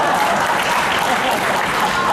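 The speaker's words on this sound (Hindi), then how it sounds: "आप लोगों ने कविताओं पे तालियां बजाई जी" A crowd at a Hindi poetry recital claps loudly and steadily, a dense, even wash of applause sustained throughout with no pauses.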